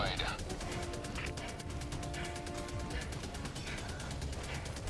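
Rapid automatic gunfire from a video game rattles in a fast even stream of sharp cracks throughout, fairly quiet, with a voice talking over it at moments.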